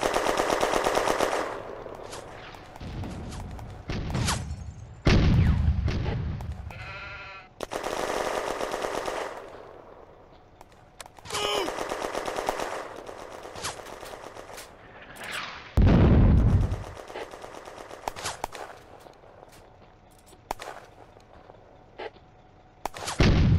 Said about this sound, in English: Sergeant Louis' section is being mortared and under artillery fire.